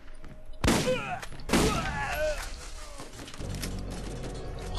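Shotgun blasts in Borderlands: two loud booming shots about a second apart, each with a ringing tail, followed by a lower rumbling mechanical rustle.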